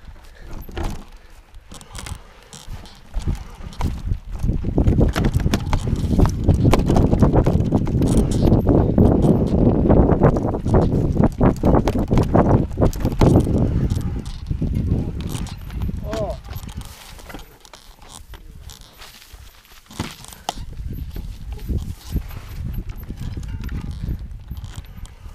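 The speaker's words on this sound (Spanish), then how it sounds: "Mira, hay caballos abajo." Horses walk on a trail near Camprodon in the Catalan Pyrenees, their hooves clip-clopping in a steady, fairly close rhythm that swells and eases, with some voices.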